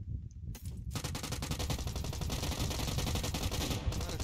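Continuous rapid gunfire from a video game rattles on loudly and steadily, a dense automatic stream with no talking.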